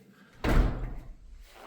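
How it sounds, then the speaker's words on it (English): A door inside a building with garages on either side is pushed shut, landing in one solid, fairly loud thud that rings briefly and then fades into quiet room tone. "Go ahead and shut the door here."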